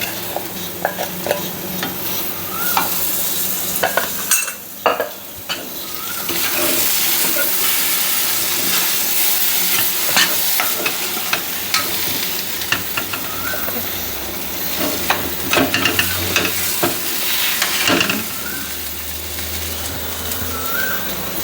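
Moong dal roasts and is stirred in a pan, with loud, continuous scraping and rustling of the spoon and a hissing sizzle underneath, near and busy throughout.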